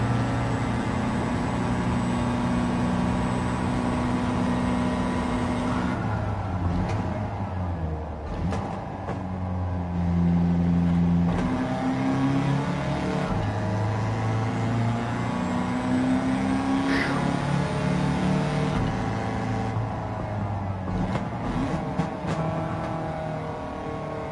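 A 1966 Volkswagen Beetle with a swapped engine races in Gran Turismo 7, its engine droning and revving steadily with pitch rising and falling through gear changes and corners, continuous and fairly close for the whole stretch.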